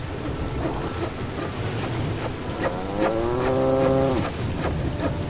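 Cattle pulling carts in the Roman city-builder game Pax Augusta, a single drawn-out moo rising over a steady wash of rain and rumbling ambience.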